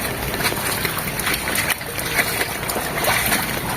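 Floodwater splashes and sloshes inside a house during a storm, a continuous close wash of churning water with no one speaking.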